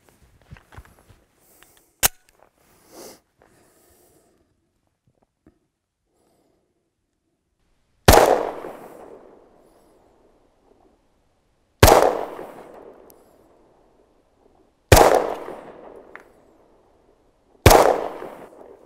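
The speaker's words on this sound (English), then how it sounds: "I'm about to test some 9mm Parabellum ammo that I've loaded on the RCBS Pro Chucker 7 with my custom Glock 19." Four loud, sharp pistol shots from a custom Glock 19 firing reloaded 9mm Parabellum ammunition, spaced a few seconds apart, each with a decaying echo, after some quieter handling clicks.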